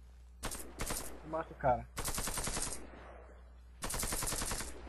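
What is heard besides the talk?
automatic gunfire burst in a video game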